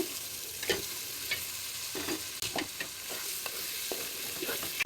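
Fish hits a pan of frying spice paste and sizzles steadily, close up, with repeated scraping stir strokes and soft knocks throughout.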